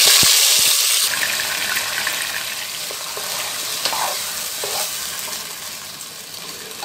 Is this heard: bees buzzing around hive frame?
no